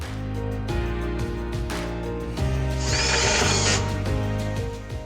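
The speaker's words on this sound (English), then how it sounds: "Secure the side shrouds by screwing them to the front and rear shrouds." Power drill or driver screwing side shrouds onto a Zero Zone Guardian merchandiser, a loud whirring motor with pitch shifts and a harsher grinding burst midway as the screw seats, close and alone.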